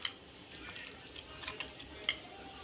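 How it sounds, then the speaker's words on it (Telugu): A spoon stirs a loose rice flour and water batter for Kattu Pulusu, giving faint light clicks and soft scrapes against the vessel over a quiet background. "నీళ్ళు పోసి ఇలా లూజ్గా కలుపుకోవాలి పిండి."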